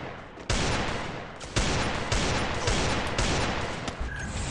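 A continuous, loud barrage of rapid shots rings out in a multiplayer shooting video game. Heavier bursts punch through at intervals with no pause in the firing.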